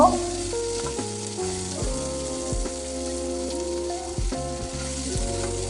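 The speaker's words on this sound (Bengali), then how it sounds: "এবার ওই তেলে আমি ডিমগুলোকে ভেজে নেব" Eggs fry in hot oil left over from frying eggplant, giving a loud, steady crackling sizzle with scattered pops and scraping clatter from a utensil against the pan, no voices.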